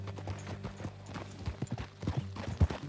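Horse hooves clip-clop in Red Dead Redemption 2, an uneven series of close, fairly loud hoof strikes over a low steady hum.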